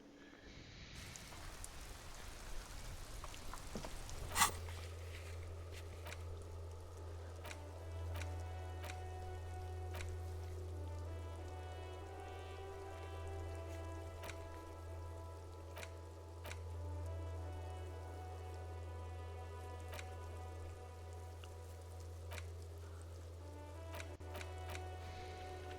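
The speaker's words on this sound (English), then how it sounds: "It's raining again." Steady rain falls in the Disco Elysium video game, a continuous soft wash with light ticking drops on surfaces, accompanied by a low sustained hum and faint tonal music in the background.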